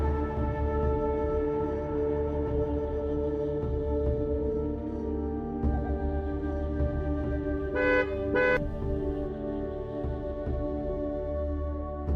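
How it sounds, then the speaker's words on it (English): A car horn honks in a short double burst partway through, set over a steady tonal engine drone close by, with no talk. "Driving after that behind me, turning around, honking at me"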